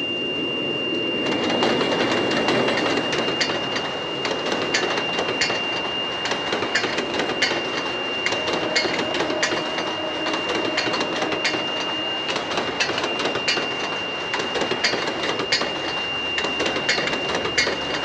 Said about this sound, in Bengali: ভোরবেলায় একটা ট্রেন ছেড়ে আসতেছে